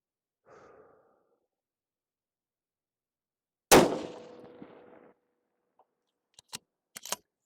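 A rifle fired from a bag rested on a barricade, one sharp loud crack with a short decaying tail, followed by a few faint clicks.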